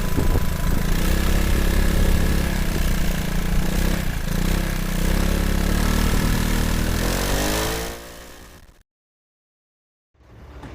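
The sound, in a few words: Piaggio Beverly 300 HPE scooter exhaust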